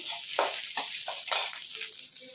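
Green chillies frying in a pan, a steady bright sizzle with a few short stirring bursts, close and fairly loud.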